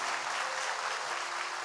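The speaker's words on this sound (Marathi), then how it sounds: "आपण एक सुरात जर आपण छान जोरात टाळ्या वाजवल्या" Loud, dense applause from an audience at a public event honouring performers, steady full clapping throughout with no voices on top.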